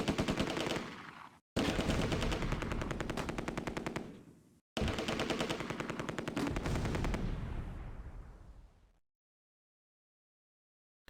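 Machine gun fire from a Sherman tank in the World War II strategy game Close Combat: A Bridge Too Far comes in three long, loud, rapid automatic bursts with short gaps, then silence.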